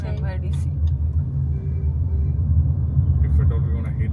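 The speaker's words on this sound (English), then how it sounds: "Traffic is too bad." Busy road traffic on MIDC in Pune, a steady low rumble of passing cars and engines close by, with brief higher noises and voices talking over it.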